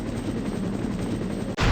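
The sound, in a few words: helicopter in a video game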